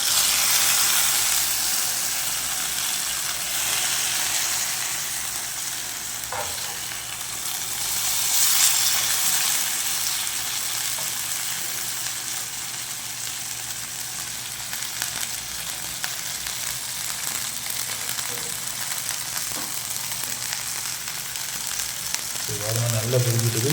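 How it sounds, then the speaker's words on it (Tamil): Milk fish frying in oil, a steady close sizzling hiss that continues throughout, with faint voices at times. "நல்லா பொரியுது"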